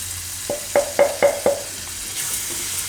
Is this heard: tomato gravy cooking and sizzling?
yes